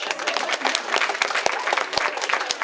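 Audience at a convention panel breaks into dense, sustained applause, many hands clapping loudly and evenly across the short stretch.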